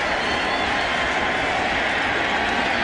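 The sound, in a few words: St. Louis baseball crowd getting loud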